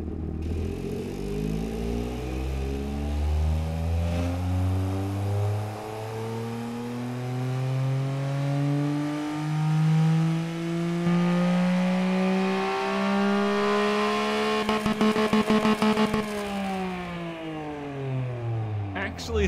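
Simulated 1 liter 110 horsepower inline-3 engine in the Automation game revving steadily up toward 8,400 RPM, a rising gnarly buzz with clear climbing harmonics, then dropping off near the end with clattery crackles.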